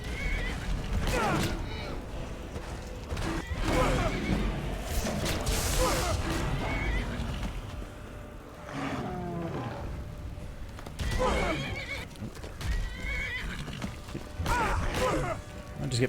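A horse whinnies several times amid combat noise in Skyrim, with thuds and clashing sounds filling the background.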